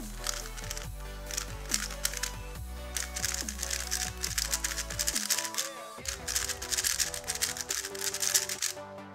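A Moyu Weilong GTS 2 M magnetic speed cube being turned by hand, a rapid, steady run of sharp plastic clicks and clacks close up, briefly quieter near the middle before picking up again, with no speech over it.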